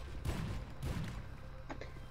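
Gunfire in the video game Kill Quota, several bursts of shots close together over a steady background rumble, loud and dense with no speech.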